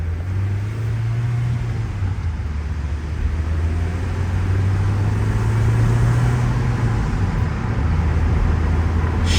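A car with a manual gearbox driving down a street after a cold start, a close, loud, steady engine drone whose pitch rises, drops and rises again through gear changes, with road rumble beneath.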